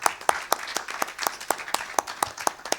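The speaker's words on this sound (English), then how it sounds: "Please, a round of applause for him as he comes up." Audience at a political campaign gathering applauding a House of Assembly candidate as he comes up, sparse but steady clapping with distinct individual sharp claps in a loose rhythm, fairly faint and distant.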